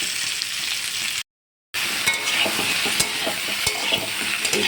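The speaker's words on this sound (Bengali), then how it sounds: "এই সবজিগুলো একটু হালকা ভাজা ভাজা হচ্ছে।" Mixed vegetables for sukto, salted, sizzle and fry in a pan with steady crackling and a few stirring knocks, broken by a brief silent gap.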